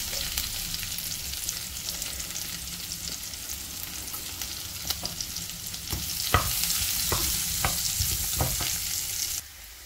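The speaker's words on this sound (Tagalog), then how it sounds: "So, mag-saute muna tayo ng garlic." Garlic sautéing in a pan with fried pork belly for a bitter gourd dish: a steady close sizzle with scattered spatula knocks and scrapes, growing a little louder toward the end, with no talking.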